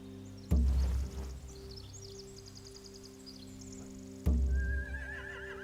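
Two loud horse whinnies, separated by a few seconds, with synthetic background tones and faint chirps, in The Walking Dead: The Final Season video game.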